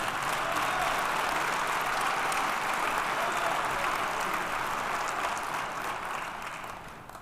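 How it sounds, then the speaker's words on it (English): Sustained awards ceremony audience clapping, a thick, even wash of many hands that gradually thins and fades toward the end. "Let's give another round of applause to all of our honorable award winners."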